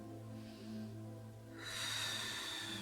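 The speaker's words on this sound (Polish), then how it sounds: "Weźmy sobie ten oddech, w dół brzucha" A slow, deep breath drawn down into the lower belly during a stretching session, a soft airy inhale that swells louder toward the end, close and steady over a low background hum.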